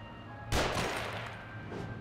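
A single burst of gunfire from the horror video game The Evil Within cracks out at moderate loudness, then decays into a lingering reverberant tail.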